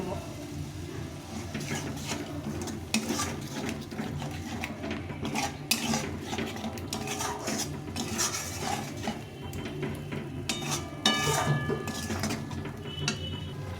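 A paste of green chili, ginger, poppy seed and cashew is sautéed in a pan for a cauliflower dish. Low sizzling runs under frequent clinks of a utensil against the pan and scraping stirs throughout.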